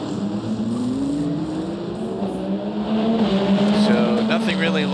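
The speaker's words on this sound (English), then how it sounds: "there you hear the Ferrari firing up." A Ferrari race car at the 24 Hours of Le Mans fires up and accelerates, its engine note climbing steadily and growing louder, under continuous commentary from race announcers.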